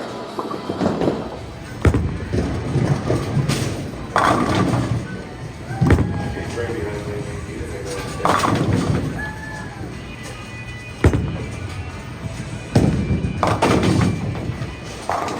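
Bowling balls thrown down a lane, each one a heavy thud followed by a rolling rumble, repeating about every two seconds in an echoing alley. Faint voices in the background.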